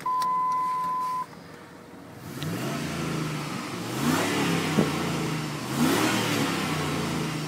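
A 2002 Dodge Ram pickup starts after a steady electronic chime stops, then its engine idles and revs up twice in short rising bursts, rumbling nearby with a slightly throaty exhaust.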